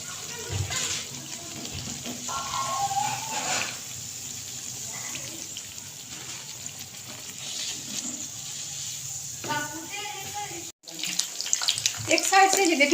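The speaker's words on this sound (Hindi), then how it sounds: "ये देखें बहुत ज़बरदस्त मीडियम आंच पे हम इसको फ्राई कर रहे हैं।" Aloo palak sharley snacks, potato and spinach fritters, fry in oil over medium heat, giving a steady, close bubbling hiss that runs throughout, with a voice speaking over it.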